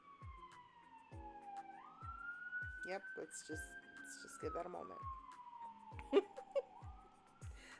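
Wailing sirens of an emergency vehicle rise and fall in the distance in the Bronx, continuing steadily under nearby speech and some light clatter.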